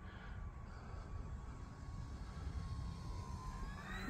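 An E-flite Beechcraft D18 radio-controlled model airplane flies over a grass field, its motor a faint, distant, thin whine that holds steady and then climbs in pitch near the end, set against quiet outdoor background noise.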